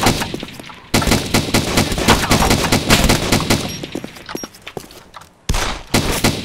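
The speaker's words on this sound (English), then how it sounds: "Let's have a gunfight." Rapid gunfire crackles through an ARMA 2 firefight, loud dense bursts and single shots packed closely together, breaking off briefly twice before resuming.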